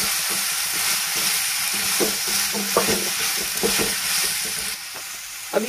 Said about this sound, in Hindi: उसके बाद हम इसमें मसाले डालेंगे और उसको भी अच्छे से मिक्स करेंगे।